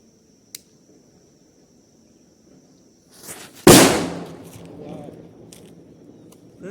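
A single sutli bomb firecracker set off with an air filter goes off in one loud, sharp blast with a rumbling tail. A faint click comes just before it, and murmuring sounds continue afterward.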